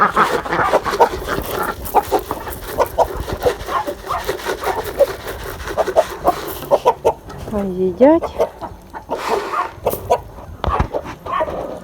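Chickens cluck repeatedly close by in a busy yard, with a dog barking briefly and a person speaking intermittently.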